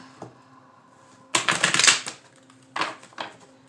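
Tarot cards are shuffled in two quick rustling, riffling bursts, near and clear, separated by brief quiet pauses with no talking.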